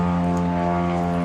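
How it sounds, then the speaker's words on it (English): A propeller airplane passes overhead, giving a loud, steady droning engine hum that fills the whole moment with no voices over it. "Sorry about the plane flying by."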